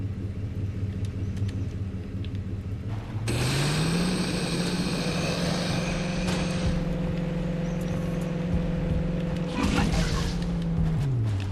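A vehicle engine in the game Defiance 2050 starts up and holds a loud, steady rumbling drone, its pitch rising then settling, with a brief burst of extra noise near the end and a voice talking faintly beneath.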